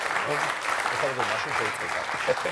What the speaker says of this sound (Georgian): მანამდე აპლოდისმენტებს მოგიჩნი დარბაზისგან